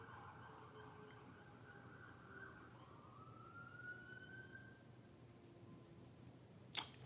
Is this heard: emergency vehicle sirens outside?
yes